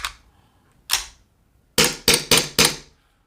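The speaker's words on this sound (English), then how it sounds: "You can do a dry fire" ASG CZ Shadow 2 airsoft replica pistol dry fired: two sharp metallic clacks, then a quick run of four snapping shots, loud and close with no talk.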